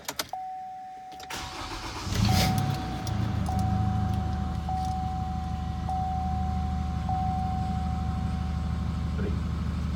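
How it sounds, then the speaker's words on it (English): A Chevrolet Colorado ZR2 truck cranks briefly and catches, then settles into a steady low idle, while a repeating chime pings at intervals inside the cab. "turn the vehicle on"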